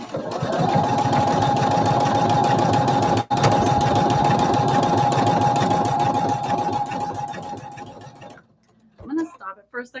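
A Husqvarna Viking Designer embroidery machine stitching vinyl with a steady, fast mechanical whir and needle chatter at close range for about eight seconds, then it stops and a person begins talking.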